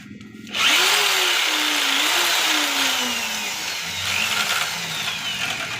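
A reamer spins inside the bore of a sewing machine part during repair, a steady whirring power-tool drone that starts abruptly and holds loud, with a slowly falling motor pitch and high metallic grinding, no talk.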